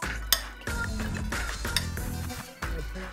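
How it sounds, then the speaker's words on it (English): A utensil clinks and scrapes against a bowl while barbecue sauce is mixed into a stuffed pepper filling, with repeated close, bright knocks and stirring sounds. "I'm gonna throw in some barbecue sauce for the finale and mix that in really, really well"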